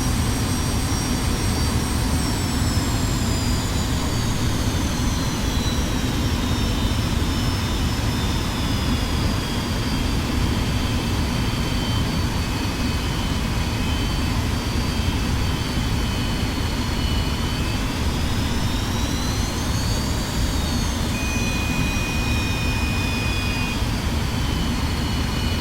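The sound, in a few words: F-86F Sabre jet engine in the DCS World video game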